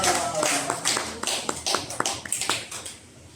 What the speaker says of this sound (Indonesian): Tepuk tangan untuk Wilda.